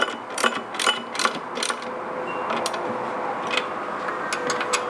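A box-end wrench ratchets a bolt on a Perry motorcycle roller starter, giving a close series of sharp metallic clicks early on that fade into a quieter mechanical hum and occasional ticks.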